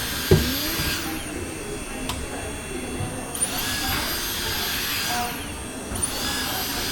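A Dyson Airstrait hair straightener on dry mode blows a steady rushing stream of air, swelling and easing as it is passed along the hair, with a couple of faint clicks and some talk in the background.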